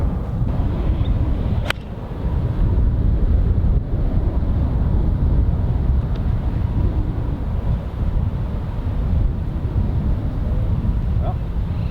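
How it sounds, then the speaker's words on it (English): Strong wind gusts across an open golf course during a Las Vegas match, roaring as steady low buffeting on the microphone, loud and close throughout with brief faint knocks. "This has been a 2-club wind all day"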